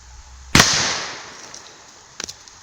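An AirForce Texan .457 air rifle fires one loud, sharp shot at a pumpkin while running low on air pressure. A fading whoosh follows the report, then a faint double knock about two seconds later.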